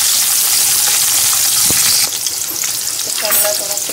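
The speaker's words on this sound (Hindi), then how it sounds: "मिर्ची, अदरक और लहसुन, ये तीनों इसमें डाल देंगे। और इसको हल्के से भून लेंगे।" Chilli, ginger and garlic hitting hot oil for a tomato chutney, a loud steady sizzle with occasional stirring clinks and bubbling.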